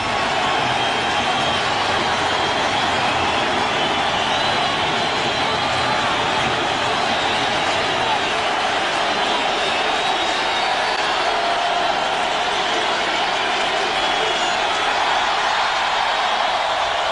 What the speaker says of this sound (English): And this crowd's going to call him back out.